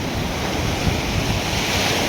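Ocean waves washing onto a sandy beach shore very close by, a continuous loud roar of surf mixed with wind buffeting the microphone, with no voices.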